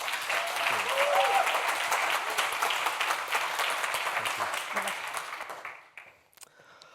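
Sustained audience applause fills a conference hall at DTNS 2022 as ING speaker Diego Snayers is welcomed onstage, steady and dense for about six seconds before tapering off quickly into near silence.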